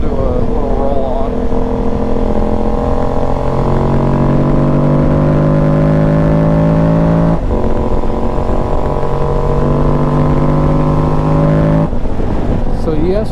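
Aprilia Tuareg motorcycle with a stage 3 tune pulls hard on a roll-on, the engine note climbing steadily twice with a brief break between, loud and close with a rider's voice faintly under it.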